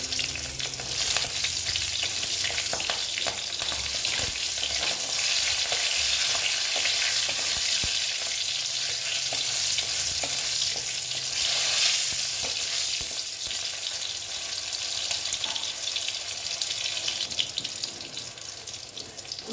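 Pumpkin and green chillies fry with a steady, loud sizzle in a pan, stirred continuously so that spatula scrapes and clatters break through the hiss, close and unbroken throughout.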